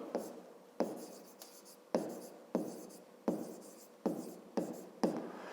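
Writing out a fifth-grade math solution by hand, heard as a steady series of sharp scratching strokes in a regular rhythm, close and clear, with no talking.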